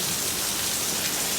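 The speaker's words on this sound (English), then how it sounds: "It's just raining now." Rain pours down during a thunderstorm in Laurens, South Carolina, a dense, steady hiss of falling drops, loud and even throughout the brief moment, with no voices.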